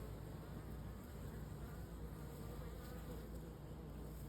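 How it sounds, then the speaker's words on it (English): Bees flying around a bucket swarm trap make a steady, continuous buzzing hum that stays fairly even throughout, with no speech. "See, bees just leave and then they come back."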